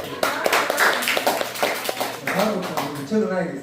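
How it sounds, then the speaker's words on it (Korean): Audience applause for a speaker at a Korean business presentation event, steady dense clapping of moderate loudness lasting throughout with some voices mixed in. "김대희 간사님께 다시 한번 큰 박수 부탁드립니다"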